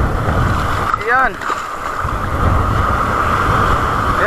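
Strong wind buffets a small boat at sea with waves around it, a constant roaring rush with low rumbling gusts, while a person speaks one brief word midway.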